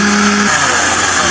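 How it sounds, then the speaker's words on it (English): A blender crushes dry angel hair pasta, a loud, steady motor whine with a harsh grinding rattle running throughout, heard up close with no talk. "All of our angel hair into the blender."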